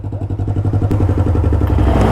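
A Honda Grom motorcycle engine revving up close, a loud, steady, rapidly pulsing exhaust note that climbs slightly in pitch and intensity.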